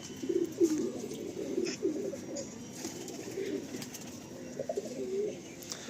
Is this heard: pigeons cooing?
yes